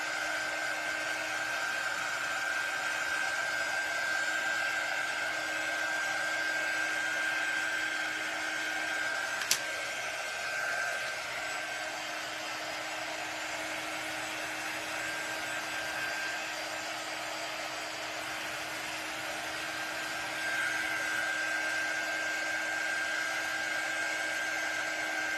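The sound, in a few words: hair dryer drying watered-down paint on shadow box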